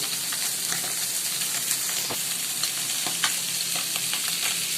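Pieces of surma fish frying in a pan of hot oil in a home kitchen give a constant dense sizzle, with sharp crackles and stirring knocks scattered through it, heard up close and without talk.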